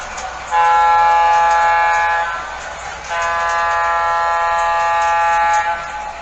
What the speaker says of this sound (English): let's get a view of the train actually running